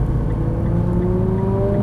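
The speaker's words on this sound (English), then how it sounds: "And accelerate straight, right to the green cone." A Nissan GT-R accelerates on a race track during a track day, its engine a loud, steady roar with a rising pitch that fills the whole stretch close up.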